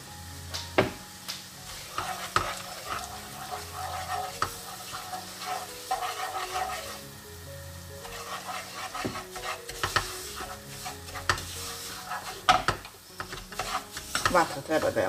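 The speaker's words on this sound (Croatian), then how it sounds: "u ulje ide griz, koji se samo prži na ulju" Semolina fries in oil in a pan for a dough while being stirred steadily, giving a continuous soft sizzle with repeated scraping and clinks of the spoon against the pan, close and without talk.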